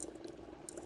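Dry ice bubbles in water with a steady, close, soft churning and gurgling that sounds like boiling, brief and continuous, with no voices.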